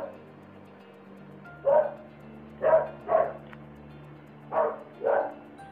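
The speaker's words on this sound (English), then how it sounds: "Sorry for the dog." Dog barking nearby indoors: five separate barks in an uneven rhythm, two close together, then a pause, then two more, over a low steady hum.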